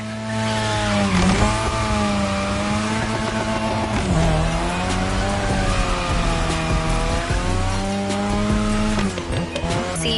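A car drifting around a drift track in the racing game The Crew Motorfest, its engine droning and revving steadily while the tires squeal in long, wavering skids, loud and continuous throughout.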